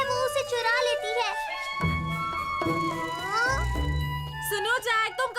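A black cat meowing in a Doraemon cartoon, several rising and falling meows sounding near and clear over background music, with animated voices speaking around them.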